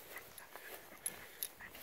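Beagle on a leash whimpering faintly while pulling outdoors, soft thin whines with a few brief higher squeaks, distant and quiet.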